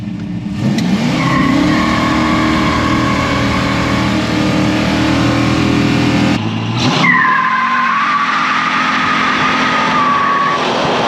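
A Plymouth Superbird with a six-pack carburetor setup launches down a drag strip, its loud V8 roaring hard, then a brief break as it shifts before revving up again and pulling away, close by with no talking.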